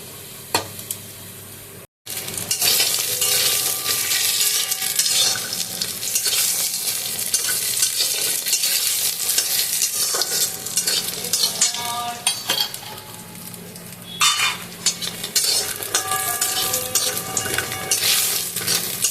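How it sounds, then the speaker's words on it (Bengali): Lentil dumplings (bori) fry in hot oil with a loud, steady, crackling sizzle that carries on almost unbroken, apart from one brief silent gap near the start, and a few sharper pops later. "চলুন এবার বড়িগুলো ভেজে নিই"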